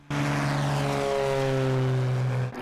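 A propeller plane drones at the Benton Airport fly-in in Columbia County, a loud steady engine tone that cuts in abruptly and holds for a couple of seconds before dropping away.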